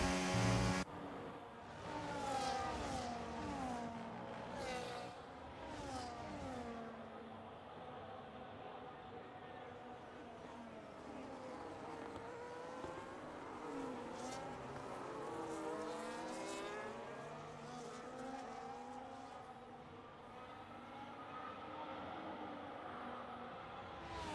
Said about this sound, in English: push this Ferrari to the absolute limits